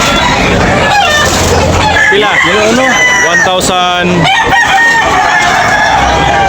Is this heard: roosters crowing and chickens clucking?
yes